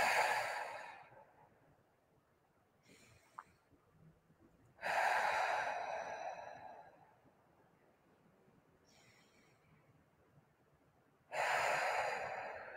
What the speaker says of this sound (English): Take a few deep breaths in through the nose,